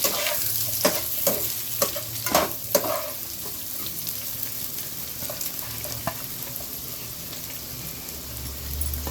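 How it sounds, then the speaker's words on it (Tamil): Steady sizzling of onions sautéing in ghee in a hot pan, with scraping clatters of stirring near the start that settle into continuous frying. "நல்லா வதக்கி இந்த வெங்காயம் இது மாதிரி நல்லா சவக்கணுங்க"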